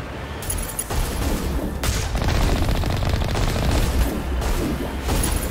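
Gunfire in Mass Effect Legendary Edition on PS5, loud sustained bursts of automatic fire with heavy booms, near and continuous throughout.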